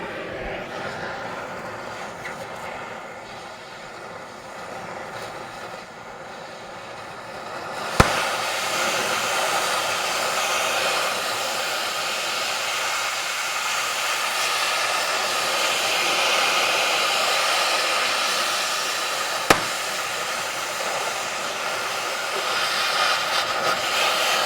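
An oxy-fuel cutting torch heats rusted, seized nuts, giving a steady loud broadband roaring hiss that starts abruptly after a quieter stretch and runs continuously, with a couple of sharp pops along the way.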